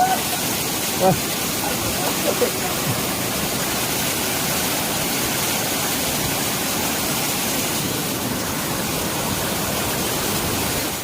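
A hidden private waterfall in the Konkan countryside gives off a continuous, steady rush of falling water that fills the scene evenly from start to finish.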